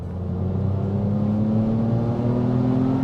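A Ford ST220 with its 3.0-litre engine accelerating nearby, a loud, smooth engine note climbing steadily in pitch for about three seconds, heard alone without talk.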